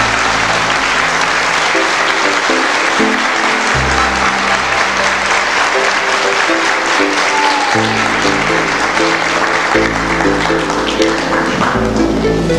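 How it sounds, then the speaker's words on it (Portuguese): A loud, sustained round of applause for a 1992 preschool graduating class, dense clapping layered over background music with steady tones, continuing at an even level throughout. "bater palmas para esse grupo aqui especial"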